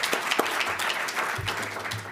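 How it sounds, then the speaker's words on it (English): An audience at an innovation conference gives a short burst of applause, a dense patter of clapping from many hands in a room. "So round of applause there."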